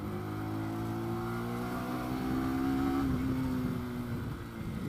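Car engine pulling hard in second gear up a hill, overtaking a lorry; a steady, loud drone with rising harmonic tones as revs climb, continuous for the whole stretch.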